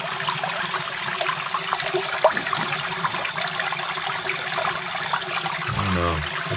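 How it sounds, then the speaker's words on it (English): Steady rushing and trickling water as a sump pump discharges through a hose during flooding, a continuous broadband wash of flow heard up close, with a low rumble near the end. "This is the sump pump going. You can hear it."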